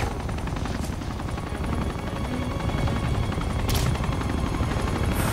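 Dense, continuous gunfire in Uncharted 2, rapid shots blending into a loud, steady roar of action with no voices.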